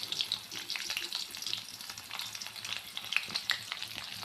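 Garlic frying in hot oil with mustard seeds and cumin gives a soft, steady crackling sizzle with sharp little pops, heard close and alone.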